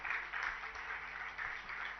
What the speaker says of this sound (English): Louder round of applause